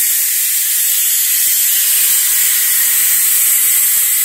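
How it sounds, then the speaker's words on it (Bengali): A pressure cooker blows its whistle while boiling, releasing a loud, continuous hiss of escaping steam that holds steady throughout. "আবার সিদ্ধ বসিয়ে দিলাম, আবার সিটি পড়ছে।"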